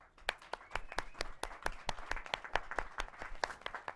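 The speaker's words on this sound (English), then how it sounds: "You guys, round of applause, please." Scattered, fairly faint applause from a small audience at a community event in El Monte, with distinct individual claps in an uneven rhythm across the whole stretch.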